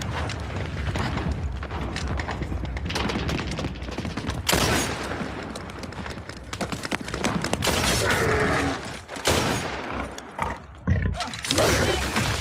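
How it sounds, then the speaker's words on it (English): A 14mm rifle fires in a video game: several sharp, loud blasts ring out at irregular intervals over a rough, roaring background din, with no talking. "this is like a 14mm rifle."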